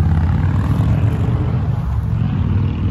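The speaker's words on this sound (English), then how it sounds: "Plenty of loud trucks around here." Heavy truck rumbling along a town street in Ducktown, Tennessee, a loud continuous low-pitched engine drone holding steady and close throughout.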